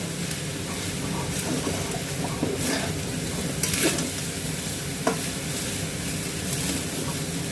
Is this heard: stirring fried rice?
yes